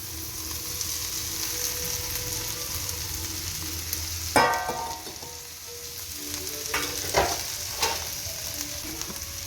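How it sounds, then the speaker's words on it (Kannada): Okra stir-fried with onion in a pan for palya, a continuous close sizzle broken by a few clattering spatula stirs and scrapes. "ಸ್ವಲ್ಪ ಹೊತ್ತು ಫ್ರೈ ಆದಮೇಲೆ ಬೆಂಡೆಕಾಯಿ ಫ್ರೈ ಮಾಡ್ಕೊಂಡಿದ್ದೀವಲ್ಲ, ಈ ಬೆಂಡೆಕಾಯನ್ನು ಅದಕ್ಕೆ ಸೇರಿಸ್ತೀನಿ"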